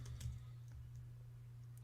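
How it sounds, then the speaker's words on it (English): Brief, faint keyboard clicks from typing on a computer keyboard, a few taps near the start and then quiet over a steady low electrical hum. "I'm here like typing."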